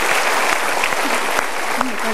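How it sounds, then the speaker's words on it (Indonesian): A seminar audience gives a sustained round of applause, a dense, even wash of many hands clapping at a moderate level with a brief voice surfacing near the end. "Kita berikan tepuk tangan dulu."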